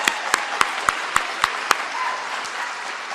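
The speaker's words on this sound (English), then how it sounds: "Let's give them a round of applause, huh?" Applause for the 2005 softball team at a college athletics Hall of Fame ceremony: a steady wash of crowd clapping, with a few sharp, louder claps punctuating the first half before the sound evens out.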